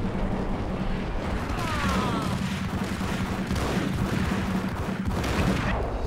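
Continuous gunfire in the shooter game Max Payne, with dense, overlapping shots and booms forming a steady, loud barrage that never lets up.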